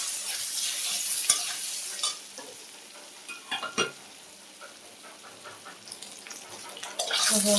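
Paneer pieces frying in mustard oil over a lowered gas flame crackle and sizzle loudly, with scraping stirs and bursts of spatter that rise and fall across the stretch.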